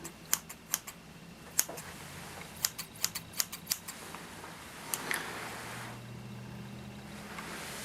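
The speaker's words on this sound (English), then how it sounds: "You don't like me putting these scissors too close to you." Sharp little metallic clicks and snips, scattered and close, then a quieter stretch with faint background hiss.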